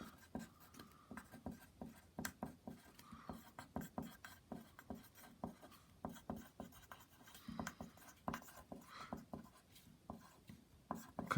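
Pen or marker scratching across paper during an algebra lesson on complex roots, a steady run of short rubbing strokes with brief pauses, close and fairly quiet, with no talk over it.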